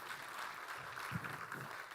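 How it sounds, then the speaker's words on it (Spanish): A church congregation applauds, a soft steady wash of many hands clapping heard from a distance, faint and continuous for a couple of seconds. "Denle un aplauso a Jesús"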